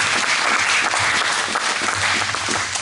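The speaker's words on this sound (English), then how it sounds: "one last round of applause for our new wonderful, amazing team" A crowd in a chapel applauding loudly, dense continuous clapping from start to finish.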